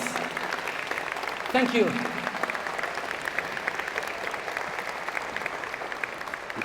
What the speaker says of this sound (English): Give them a big round of applause, yes.